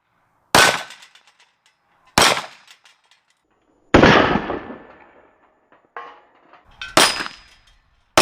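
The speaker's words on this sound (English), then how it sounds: "We'll get a different angle as I fire where you can see the targets" Pistol shots on an outdoor shooting range, a Taurus G2C 9mm handgun fired at targets: five sharp, loud reports spaced a second or more apart, each ringing out with a short decaying echo.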